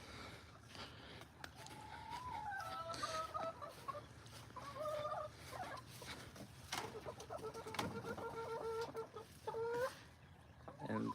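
Backyard garden chickens cluck in short repeated bursts, near and clear, with a few sharp knocks and rustles mixed in and no talking.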